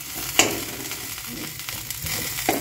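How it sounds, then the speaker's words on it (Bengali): Small diced potatoes frying in butter over a wood-fired stove, a close, steady sizzle with a couple of sharp pops and stirring scrapes. "যাতে বাটার দিয়ে একটু আলুটা ভাজছি।"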